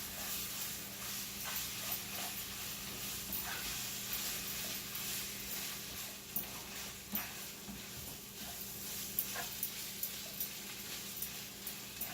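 Hamburger stroganoff simmering low in a pan, a steady soft hiss and bubbling with occasional light stirring clinks, fairly quiet and continuous with no voices.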